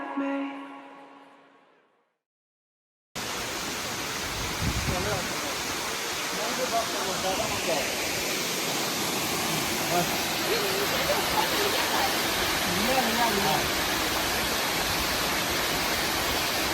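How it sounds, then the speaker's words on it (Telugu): Waterfall at Araku, a cold mountain cascade, roaring as a dense, steady wash of rushing water that stays loud and close for most of the stretch, after a short quiet opening with a faint voice. "సో గైస్ ఇప్పుడు చూసింది అక్కడ కదా వాటర్ ఫాల్స్"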